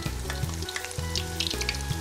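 Oil sizzles and crackles steadily in a hot Iwachu iron pan, close up, with a constant frying hiss and small pops and no voices.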